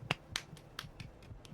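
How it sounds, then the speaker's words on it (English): Hands clapping at a moderate, slightly uneven pace, about seven sharp claps in a second and a half, close and fairly quiet against a low background hum. "That's the sound of my hands clapping"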